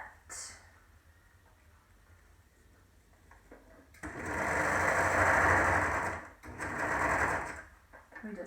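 A sewing machine stitching a modified Olson face mask, starting after a quieter stretch with a loud steady whirring run, a brief pause, then another burst of stitching, close by, with some talking in between.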